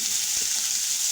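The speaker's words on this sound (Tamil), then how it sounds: "சின்ன வெங்காயம் சேர்த்து நல்லா வதங்கட்டும்" Shallots sautéing with garlic in a pan, a steady close sizzle throughout the short moment with no talk.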